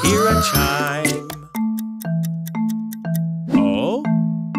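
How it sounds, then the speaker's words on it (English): Bright chime tones ring out in a children's nursery rhyme song about fresh fruit ice cream, several evenly spaced sustained dings repeating over a steady backing tune, with sung voices at the start. "We wait, wait, wait, till we hear a chime."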